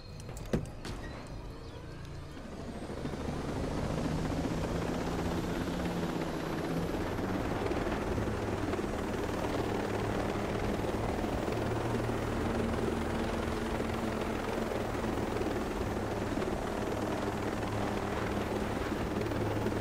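Helicopter in the video game Ghost Recon Breakpoint, a steady rotor and engine drone that starts after a brief mechanical clunk and holds at a constant level, with no talk over it.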